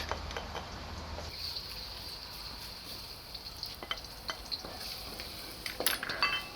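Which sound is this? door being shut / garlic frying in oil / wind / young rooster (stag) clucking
garlic frying in oil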